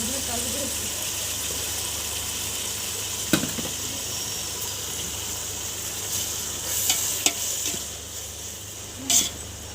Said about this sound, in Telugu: ఉల్లిపాయలు వేగిపోయాయండి. ఇప్పుడు ఇందులో టమాటాలు వేసుకుందాం.